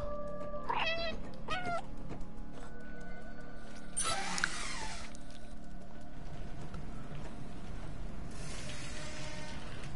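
A cat in the video game Stray meows several times, with short clear mews near the start and middle and a fainter one near the end, over a low steady ambient background.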